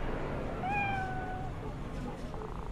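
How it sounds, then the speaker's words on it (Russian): A cat in Cyberpunk 2077 lets out one clear, drawn-out meow about a second long over low background game ambience, followed by faint murmur-like sounds. "через еще одну засранную улицу придем гладить кошку"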